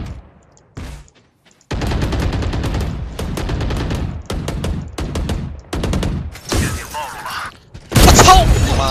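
Rapid bursts of gunfire from a first-person shooter game, including shotgun blasts and sustained automatic fire, loud and repeated in several volleys with short gaps between them.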